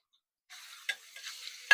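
Ground meat dropped into a pan of browned garlic and onion for arroz a la cubana sets off a sudden soft sizzling hiss after a short silence, with a few brief scraping clatters near the end.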